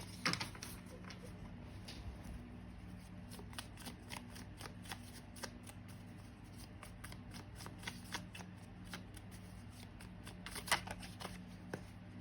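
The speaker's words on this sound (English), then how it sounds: "I added some new messages, so this has become significantly harder for me to shuffle." A thick deck of message cards is shuffled by hand for a card reading, giving continuous close riffling and flicking with sharper snaps near the end, over a steady low hum and no talk.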